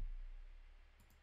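Two quick computer keyboard key presses, small light clicks close together near the end of a quiet stretch of faint background hiss.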